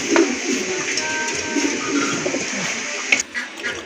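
Pigeons kept for sale cooing close by, soft repeated calls with a slight mechanical hum in the background.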